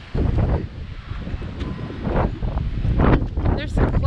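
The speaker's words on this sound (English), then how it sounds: "Ooh, it's getting windy." Gusty wind picks up ahead of a snowstorm in Leadville, Colorado. Loud bursts of rushing air batter the microphone in uneven waves, swelling and easing every second or so.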